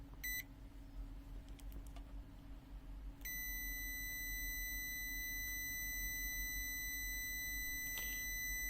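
A Zoyi ZT-922 multimeter in continuity test mode sounds a steady, unbroken high electronic beep that starts sharply and holds for several seconds, loud and close over a faint low hum.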